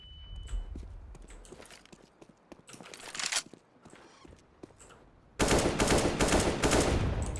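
Rapid gunfire in a video game, with scattered shots and clicks early on, then a loud, sustained burst of dense automatic fire near the end.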